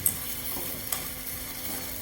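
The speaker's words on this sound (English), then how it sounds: "then after that you add garlic and fish sauce, sugar, pepper, and then you keep stirring." Pork belly with garlic, fish sauce, sugar and pepper sizzles in a pan while being stirred, a soft continuous frying hiss with a couple of faint scraping clicks.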